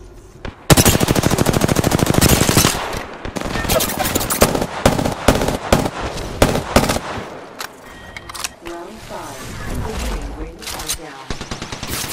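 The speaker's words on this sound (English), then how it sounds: "I'm getting shot at" Rapid automatic gunfire and scattered shots from an Apex Legends match, loud bursts dominating the opening seconds then continuing in shorter volleys amid game effects, with a voice talking over the action.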